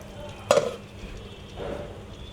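Chicken cooking in a pan without added water: a sharp utensil scrape against the pan, then a softer stir a second later over a low sizzle.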